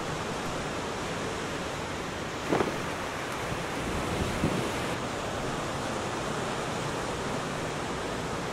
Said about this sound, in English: the 8th day of our road trip is certainly a windy one, here at the bottom of the South Island.